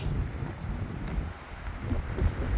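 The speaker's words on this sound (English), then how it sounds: "Always a windy day." Gusty wind rumbles and buffets the microphone, a steady low roar with no voices.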